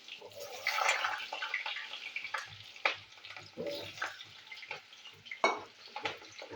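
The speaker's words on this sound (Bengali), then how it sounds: "তো আলু আমি ভাজবো, তেল কড়াইতে তেল দিয়ে দিয়েছি। এবার আলুগুলো আমি ভাজবো।" Potatoes fry in oil in a wok with a faint, crackly sizzle and scattered pops, while someone talks quietly nearby.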